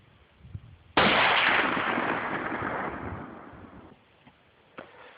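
A single loud, close crack of a customized Mosin Nagant rifle fired at a long-range outdoor shooting range, followed by a long rolling echo that fades over several seconds.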